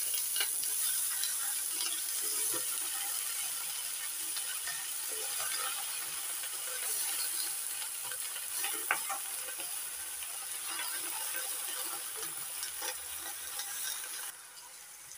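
Milky taro stems and leaves frying with shrimp in a pan, stirred with a utensil: a steady close sizzle with scattered scraping clicks that runs unbroken, with no voices.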